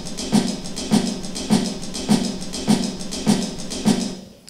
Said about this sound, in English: So that's a two-bar sequence with just the hats